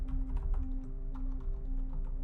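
Fast, steady typing on a computer keyboard while coding, with close, dense clicking keystrokes running throughout and no talking.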